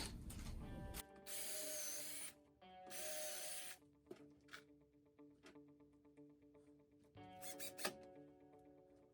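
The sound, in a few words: screwing parts of a wooden floor bed together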